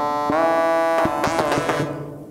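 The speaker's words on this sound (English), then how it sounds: "So Helm is a software synthesizer." A bright tone from the Helm software synthesizer plays a sequence of plucky notes with rich harmonics, several struck in quick succession before fading out.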